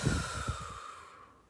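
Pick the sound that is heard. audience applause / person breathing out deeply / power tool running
person breathing out deeply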